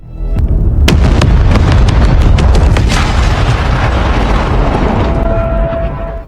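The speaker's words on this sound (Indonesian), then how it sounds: "The High Table menjatuhi hukuman dengan cara menghancurkan hotel Continental milik Winston" A massive explosion destroys the Continental hotel in the film John Wick 4: a loud sustained boom and roaring blast with crackling bursts and debris, fading slightly toward the end with no talk.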